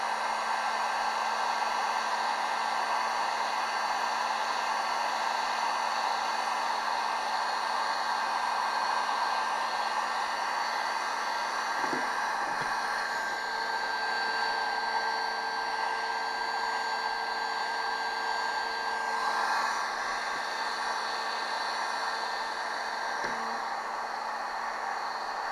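A hot air tool blows steadily to heat a plastic replacement drive box cover for a Slayer Propel 10-foot kayak, producing a constant, close, loud airy whoosh with a faint whine and a few small knocks throughout.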